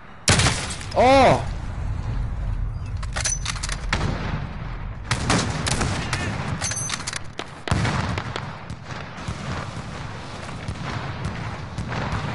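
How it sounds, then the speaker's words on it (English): Dense video game gunfire in a PlayStation 4 shooter: rapid bursts and sharp cracks go on almost without pause, loud and close, while a player lets out short shouts over them. "Man, who the hell is shooting me?"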